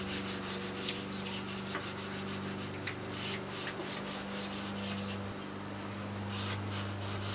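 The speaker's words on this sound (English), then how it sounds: "when I'm ready to do some 1500 grit sanding, all I have to do is reach for this one block" Wood is hand-sanded with a 1500-grit sanding block in quick, regular back-and-forth strokes, a close, steady scratchy rasp repeating throughout over a constant low mechanical hum.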